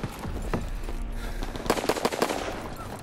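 Rapid bursts of grease gun fire in the World War II shooter Call of Duty: WWII, a dense volley of sharp shots clustered near the end over a continuous busy game soundscape.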